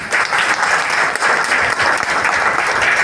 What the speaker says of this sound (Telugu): దీనికి క్లాప్స్ కొట్టచ్చు.